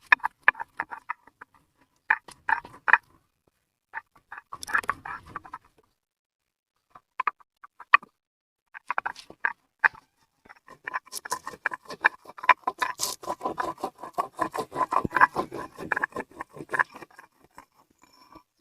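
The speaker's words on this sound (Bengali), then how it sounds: "প্রথমে বেটে নেব মরিচ" Chilies being ground by hand on a stone in a village kitchen, with scattered scraping and tapping strokes that start sparse and then settle into a dense, steady rhythm, close and fairly quiet, no talk.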